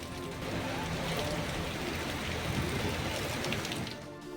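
Unseasonal rain driven by stormy wind, a steady broadband wash of falling drops and gusts that holds at an even, fairly loud level throughout with no voices.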